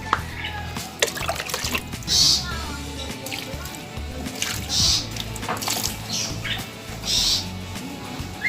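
Water trickling and splashing onto soil in intermittent bursts, with birds chirping in the background.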